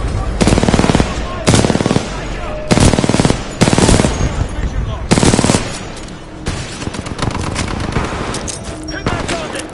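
Loud automatic weapon fire in the Titanfall 2 campaign, coming in repeated long bursts roughly a second apart, then a denser stretch of continuous shooting and impacts, close and dominant throughout.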